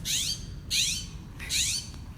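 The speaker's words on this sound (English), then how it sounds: "And then I specifically started noticing scrub jays, which are really loud" Three harsh, raspy scrub jay calls ring out in a slow sequence, each a loud scratchy squawk separated by short pauses, close by.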